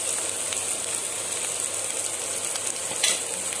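Cabbage and onions sauté in a pan for a vegetarian lunch, giving a dense, continuous hiss of frying at close range, with a faint stir or clink near the end.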